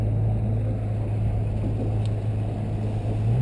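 A 2014 X-26 Guide Series Express boat with a 250 VMAX four-stroke outboard gives a steady, loud, close engine drone with a constant low hum and no speech.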